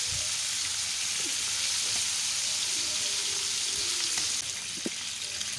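Chicken pieces frying in a pan for homemade shawarma, giving a steady, loud, close sizzle that runs throughout, with a few faint clinks and no speech.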